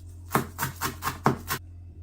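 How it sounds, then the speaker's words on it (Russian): A knife finely chops parsley and dill on a cutting board, six or seven crisp, even taps in a steady rhythm, then stops. "Нужно очень мелко нарезать."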